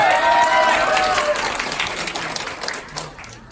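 An audience at a beauty creator academy event bursts into loud cheering and applause, with shouting voices rising over the clapping at first, then the sustained applause slowly fading.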